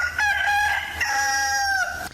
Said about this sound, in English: And below us somewhere a rooster crowed.